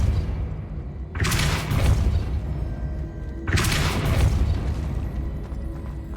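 Depulso spell cast in Hogwarts Legacy on PS5, two loud booming bursts a couple of seconds apart, each a sharp whooshing blast with a rumbling tail over steady game ambience.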